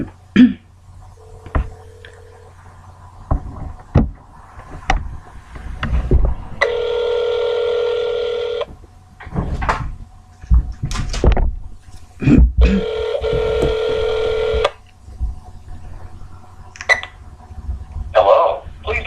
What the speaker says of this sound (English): here is a phone call to Clifton Ramey. This will be his landline phone